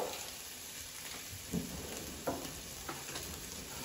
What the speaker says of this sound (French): on continue de faire revenir tout ça